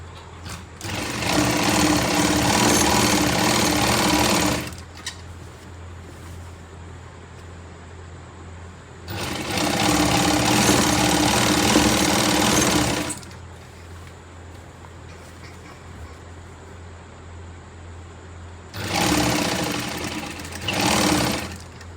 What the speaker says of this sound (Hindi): देखिए, हम नीचे से सिलाई करते हुए ऊपर की तरफ जाएंगे।